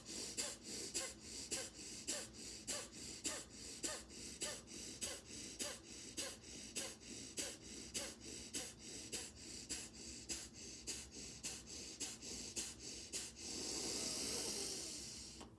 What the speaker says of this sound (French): on est rendu à la troisième et dernière séquence de 20 respirations, de la respiration de feu